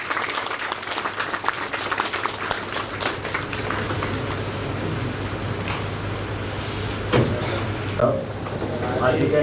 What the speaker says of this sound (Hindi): एक बार जोरदार तालियों के साथ स्वागत करेंगे।